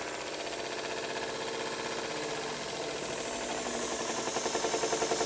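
A Cooper Brothers Model 2508 model steam engine chugs steadily with a mechanical rattle and hiss, its rhythmic beat quickening slightly toward the end, close and continuous.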